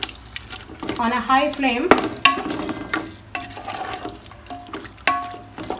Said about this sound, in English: And let's give it a good stir.